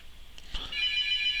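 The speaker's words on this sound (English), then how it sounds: "oh, there's the phone" A telephone rings once: a short electronic trill starts after a couple of clicks and holds steady and fairly loud until the end of the brief clip.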